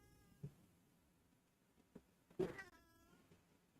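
A cat gives a few short, faint meows spread across a few seconds in a quiet room, the loudest call coming near the end.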